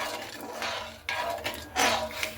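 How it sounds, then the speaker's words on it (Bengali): Sugar melting in a pan for a sabudana sweet is stirred with a utensil, giving soft scraping and light clinks of metal against the pan in short bursts, close and quiet, no voices. "এইভাবে আমি নাড়তে নাড়তে একটু গলিয়েও নেব খুব ভালো করে"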